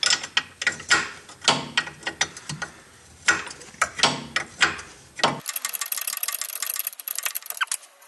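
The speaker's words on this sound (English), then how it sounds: "the first thing I'm going to do is remove the nut from the lower ball joint" A ratchet wrench with a 22 mm socket turns the lower ball joint nut on a Mitsubishi Eclipse, giving bursts of rapid metallic clicking in repeated strokes, loud and close, then a softer steady ticking toward the end.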